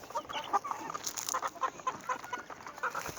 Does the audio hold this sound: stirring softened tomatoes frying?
no